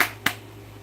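A single sharp hand clap or snap rings out once, close and fairly loud, against a quiet steady hum with faint room noise around it.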